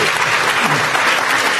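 Applause from the audience at a Dutch panel discussion on development funding, steady dense clapping filling the whole stretch with a faint voice underneath.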